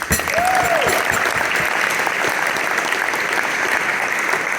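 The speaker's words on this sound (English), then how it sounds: "we give Malcolm a huge round of applause" A Guildhall audience in London breaks into sustained applause, dense and steady for the whole stretch, with a brief voice or whistle-like tone near the start.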